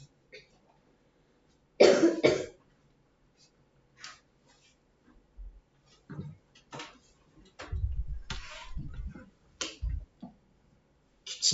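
A person coughs indoors in a quiet room, with one loud burst followed by several smaller scattered coughs and throat sounds, close to the microphone, with a voice heard in between.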